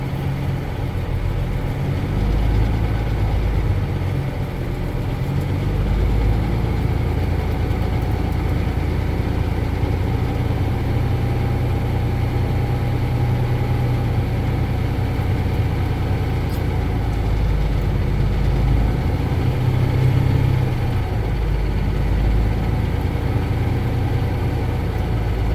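A truck engine idles steadily with a low, continuous rumble while air pressure builds toward the governor cut-out, holding an even level throughout with no speech.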